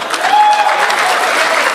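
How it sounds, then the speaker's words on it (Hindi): Loud, steady applause from a mushaira poetry recital audience, a dense wash of clapping that carries on without a break as a poet is welcomed to the stage. "ज़ोरदार तालियों से इस्तकबाल पॉपुलर मेरिटी साहब।"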